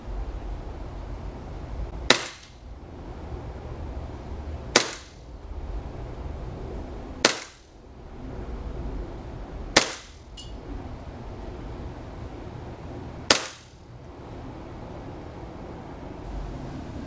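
A Polarstar green gas airsoft gun fires five single shots through a chronograph, each a sharp, loud crack spaced a few seconds apart, with a quiet room tone between them.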